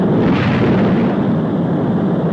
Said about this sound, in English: There goes the first stage.